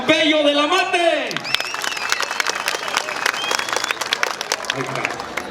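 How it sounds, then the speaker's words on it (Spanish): A rodeo crowd at a jaripeo in Ameyaltepec, Guerrero, applauds a rider, with steady, dense clapping and light cheering swelling after an announcer speaks over a loudspeaker at the start. "el aplauso para Pompeyo de la Mate."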